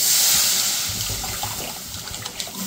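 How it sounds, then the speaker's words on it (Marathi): Water splashes and trickles steadily into a wok, a continuous close pouring sound that fades slightly toward the end, with no talking. "सगळ्यात पहिलं कढईत पाणी ओतून घेते"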